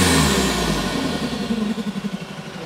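A modified Mitsubishi Triton pickup truck engine with an F55V setup revs up loudly and then settles into a throbbing, pulsing idle, close by.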